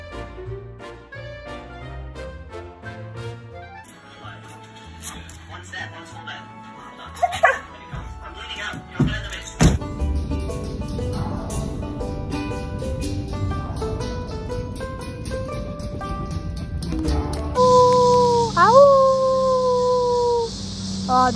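A dog whimpers, yips and howls amid music and people talking, the canine cries rising and falling at moderate distance through the clip.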